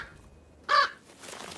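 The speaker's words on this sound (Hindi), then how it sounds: "पास में एक कौवा छिपा हुआ है जो जोर जोर से कांव कांव कर रहा है।" A crow gives one loud, harsh caw close by, followed by a fainter rustle, with quiet surroundings otherwise.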